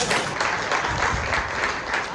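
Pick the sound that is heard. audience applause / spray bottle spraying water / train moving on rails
audience applause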